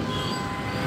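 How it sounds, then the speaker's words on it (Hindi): Metro train passing near a busy road crossing at Pari Chowk in Greater Noida, a loud steady rumble with rail noise filling the whole short moment, no talking. "देखो मेट्रो जा रही है"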